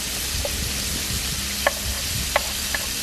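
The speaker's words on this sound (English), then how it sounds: "as you can see how quickly that garlic is sizzling away" Chopped garlic sizzles steadily in a hot pan of chilli prawns, a continuous close frying hiss with a few sharp crackles and pops breaking through.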